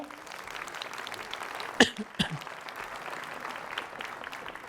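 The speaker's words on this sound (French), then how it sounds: "qu'on peut applaudir pour chauffer un peu la salle." Applause from an audience in a hall at a New Year's address in Ouistreham, a steady patter of clapping with a couple of sharp louder knocks or coughs partway through.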